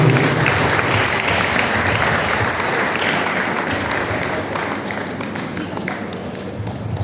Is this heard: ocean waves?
no